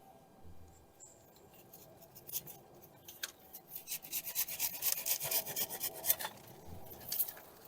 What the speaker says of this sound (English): I'm going to take my handsaw, it's a little bit bigger branch, and I'm going to cut it as low and close to the base as possible